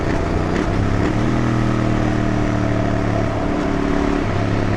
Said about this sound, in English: I don't know how to do clutchless rev matching